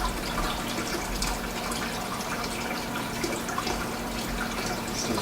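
Water gurgles and rushes steadily as a bell siphon drains a grow bed, a continuous close hissing flow with no pauses.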